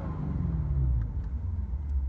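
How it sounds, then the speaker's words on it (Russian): A Lexus RC F V8 in Sport Plus mode gives a deep, bassy engine rumble from inside the cabin, a steady low drone with a slight rise and fall, and no talking. "И уже в Sport Plus меняется звук двигателя. Становится более басовитый."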